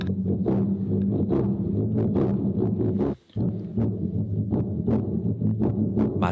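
A Portuguese ronca friction drum, played with a wetted hand, gives deep, rumbling, throbbing pulses in a steady irregular rhythm, close and fairly loud, with one short pause midway and no talking.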